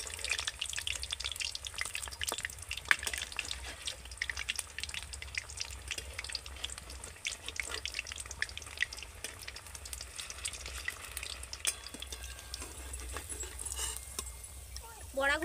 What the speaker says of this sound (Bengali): বড়াগুলো কিন্তু একদম হালকা আঁচে ভাজতে হবে